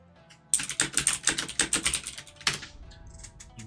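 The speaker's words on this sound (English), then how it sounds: "You might hear some typing, you might not." Rapid, steady keystrokes on a computer keyboard, close and clear, in a quick burst of about a dozen taps followed by a short pause and a few more scattered clicks.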